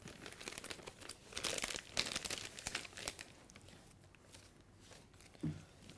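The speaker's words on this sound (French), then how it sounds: "On va couper un peu notre poche" A plastic piping bag being snipped and handled while assembling a vanilla blueberry finger pastry, heard as faint, close crinkling and rustling with a few small sharp clicks and no talk.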